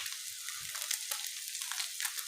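A chicken mixture fries in a pan with a steady, close, hissing sizzle that carries on without a break.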